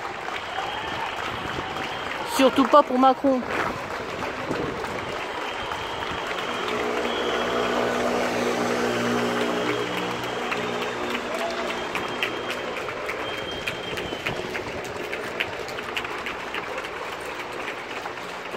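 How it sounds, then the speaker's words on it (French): A crowd in Paris applauds medical staff from their windows, a dense, steady clapping spread across the street, with a voice speaking briefly near the start. "Là, c'est le personnel médical du service public qu'on applaudit."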